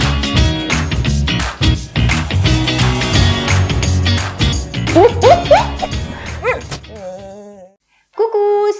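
Dog whimpering, yipping and barking inside a car, with dense overlapping musical sounds and a short pause near the end before more high whines.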